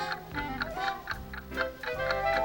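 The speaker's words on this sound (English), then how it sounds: "It was an old wooden clock, tick-tocking on a rock." An old wooden clock ticks and tocks in a steady, evenly spaced rhythm, close and clear, with each beat sharp and distinct and no talking over it.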